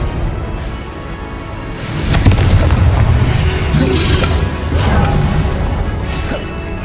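Confringo blasting spells explode in the Hogwarts Legacy video game as loud, deep booms and crashing impacts, one blast after another, heavy and close, with a rumbling wash between hits.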